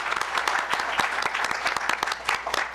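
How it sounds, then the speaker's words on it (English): Audience at a fair housing forum and breakfast applauds its panelists and participants, a dense, steady wash of many hands clapping with sharp individual claps standing out, loud and close throughout. "How about a round of applause for all of our participants"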